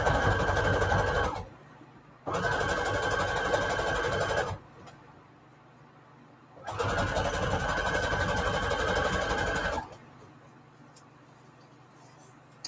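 A sewing machine stitches trim made from book paper scraps, running in three loud steady bursts of rapid mechanical whirring separated by quiet pauses, with no talking.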